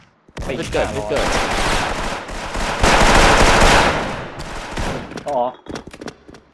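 Sustained machine gun fire from an FPS video game rattles in long dense bursts, loud and close, with brief pauses and a final few scattered shots, while voices talk over it.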